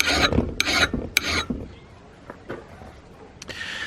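An old axe head is sharpened by hand, giving several short, scraping rasps of a file on steel in uneven strokes, strongest early on and then fading to lighter scrapes.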